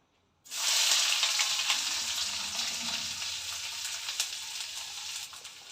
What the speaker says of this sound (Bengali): দিয়ে দিলাম একটু লঙ্কা গুঁড়ো অল্প করে তেলের মধ্যে দিয়ে দিলাম পেঁয়াজটা